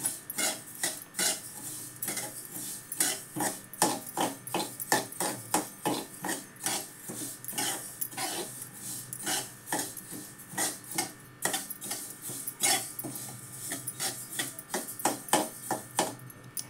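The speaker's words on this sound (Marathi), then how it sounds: "बारीक गॅसवर तीळ भाजून घेते." Sesame seeds roasting in a pan over a low gas flame, heard as repeated dry rattling scrapes of a spatula stirring the seeds against the metal, steady and close.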